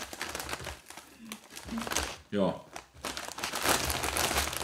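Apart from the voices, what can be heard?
crisp bags being opened, crinkling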